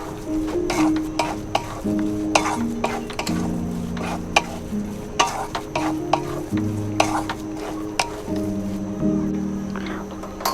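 Motichoor laddu mixture with ghee stirred in a pan over the flame, spoon scrapes and knocks repeating steadily throughout, with a melodic tune playing underneath.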